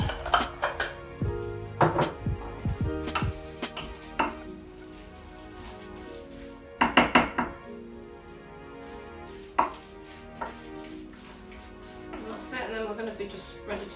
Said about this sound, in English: So I'm going to add some pesto, and I'm going to mix all that together.